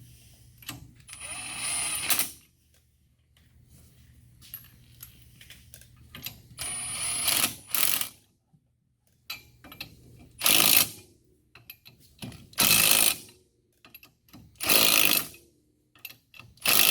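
A ratchet tightens lug nuts on Can-Am Defender wheel spacers, close and clear, in short repeated bursts of quick clicking separated by quiet pauses.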